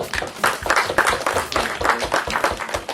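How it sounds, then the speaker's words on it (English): An evening club audience bursts into applause for a speaker named Theo, a dense, steady clatter of many hands clapping together for about three seconds, loud and close. "give Theo a clap, please"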